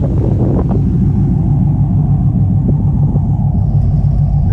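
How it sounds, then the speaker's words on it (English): A 2001 Pontiac Trans Am exhaust idles close by, a steady low rumble that stays mild and even, with some wind noise against the microphone. "As you can see, it's a pretty mild exhaust at idle."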